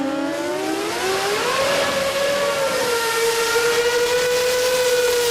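Billet 20B rotary engine in a drag racing car at a sports compact drag meet, a loud sustained high-pitched wail whose pitch climbs steadily then holds as the engine spins up, with no talk.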